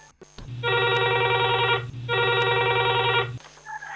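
A telephone rings in two electronic bursts, clear and close, just before a phone-in call on a farming advice programme is answered.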